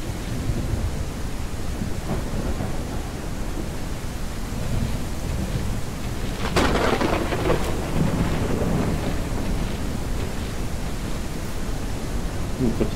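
Thunderstorm in the Wild Alone video game: steady roar of rain with a sharp thunder crack about halfway through that rolls and rumbles off, fairly loud throughout.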